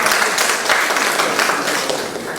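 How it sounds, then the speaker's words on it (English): Audience applause at a ministerial briefing for a commerce and industry ministry, a steady, dense wash of many hands clapping that holds loud for the whole stretch and eases slightly toward the end. "We can give him a round of applause."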